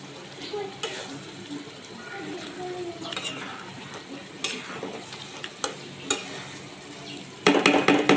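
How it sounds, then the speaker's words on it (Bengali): Chicken pieces are stirred and fried in spice paste in a pan, with a low sizzle under repeated scraping spatula strokes and metal clinks against the pot, and a louder burst of sizzling at the end. "ভেজে রাখা মাংসগুলো ঢেলে কষাই দিয়ে দেবো।"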